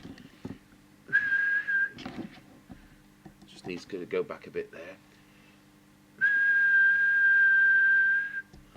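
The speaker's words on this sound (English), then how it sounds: "Now we'll just do a check with the whistle test." Two steady whistled tones, one short and one long, come through a Jesan KR303 mobile CB radio during transmitter alignment, with someone talking and clicking sounds between them.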